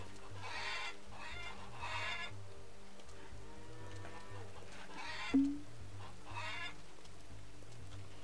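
Chickens cluck on a farm in the Farmers Dynasty game, in a few short, fairly faint bursts over a steady low background hum, with no talking.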